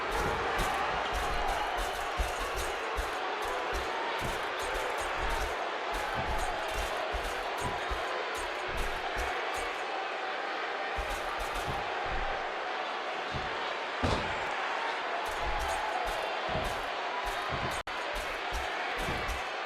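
A crowd in the WWE 2K15 wrestling video game reacts to an elimination with a continuous roar and scattered noise, heard under a commentator's voice.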